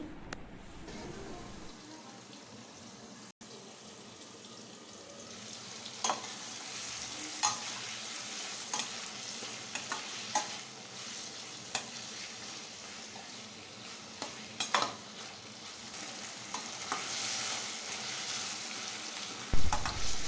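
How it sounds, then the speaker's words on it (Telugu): Chopped onions and tomato sizzle steadily in hot oil for a restaurant-style paneer curry, with occasional sharp clinks and scrapes as a spoon stirs the pan, close and continuous. "ఇవి ఒక ఫైవ్ మినిట్స్ బాగా నూనెలో మగ్గేంత వరకు ఇలా వేయించుకోవాలి"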